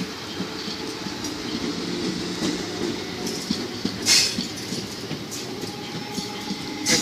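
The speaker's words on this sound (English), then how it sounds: "The class 456009 departs. Guildford." A Class 456 electric multiple unit pulls out of Guildford station, its steady rumble and wheel clatter on the rails continuing throughout, with a brief sharper squeal or clank partway through and no voices.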